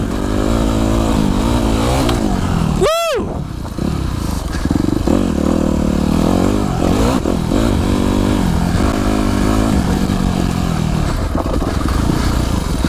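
A dirt bike engine roars loud and close along a forest trail loop, revving hard with shifting pitch as the rider works through gears and downshifts, with a brief sharp whine and clatter early on.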